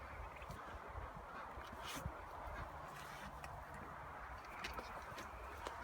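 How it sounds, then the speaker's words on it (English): A dense, steady chorus of turkeys at feeding time, gobbling and honking birds crowding together at close range, continuous throughout with no talking. "Feeding the turkeys."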